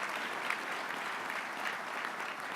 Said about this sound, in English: let's give a warm round of applause for those who prepared our meals and the farmers that grew our food